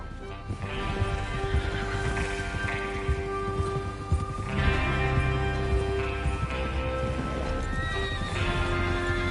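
Horses in the Red Dead Redemption 2 video game whinny and neigh repeatedly over a steady clip-clop of hooves, loud and close, with the calls rising in bursts.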